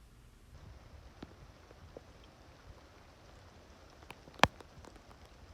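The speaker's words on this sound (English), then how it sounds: "out of nowhere it's hailing now" Hail falls outdoors in woodland deer-hunting country, a faint, steady scatter of small ticks and patter on the ground and leaves, with one sharper, louder crack near the end.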